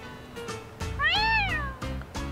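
A cat in the Yakuza: Like A Dragon video game gives a single clear, rising-and-falling meow, close and loud, over soft game background noise.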